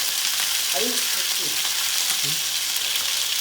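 River fish, a pearl spot, sizzles steadily in hot oil, a loud, even frying hiss throughout with a few faint clinks of a utensil in the pan.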